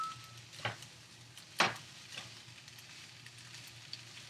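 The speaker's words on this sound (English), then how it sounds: "I'm going to toss in my tomatoes." Tomatoes sauté in a hot pan with a soft steady sizzle, broken by two sharper clatters as they are tossed in and moved around, fairly quiet and close.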